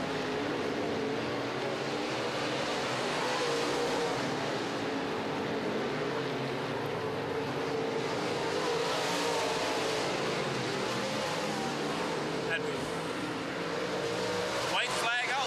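Race cars roar around a track in a continuous loud blend of engines, one pulling past as another follows, with an announcer commentating throughout.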